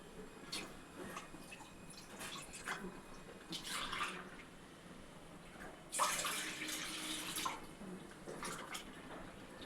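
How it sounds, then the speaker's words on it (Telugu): Water is poured into rice flour to make dough, heard as quiet trickling and splashing in a few separate bursts. The longest, loudest pour comes near the end, and there is no talk. "ముందు మూడు గ్లాసులు నీళ్ళు పోసుకోవాలండి"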